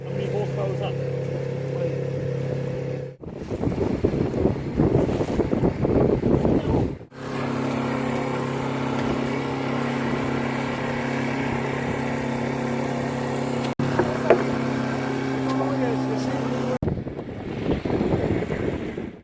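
A big rigid inflatable boat motors across a lake toward an island, its outboard engine holding a steady low drone while wind buffets the microphone; the engine note drops out briefly between stretches.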